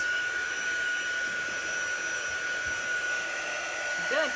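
A hand-held dryer blows steadily to dry chalk paste on a surface, a loud, continuous whooshing hum with a constant whine that holds level throughout and swells briefly near the end.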